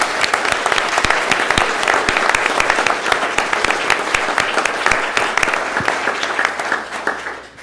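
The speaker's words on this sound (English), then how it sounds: "So if you would please give a big round of applause" Sustained audience applause fills a board meeting room, dense overlapping clapping at steady loudness that starts to taper near the end, with no talk over it.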